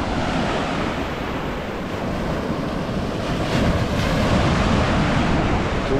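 Sea waves wash in at a Miami beach in early morning, a steady, loud roar of surf mixed with wind buffeting the microphone. The rush continues without a break and no one speaks.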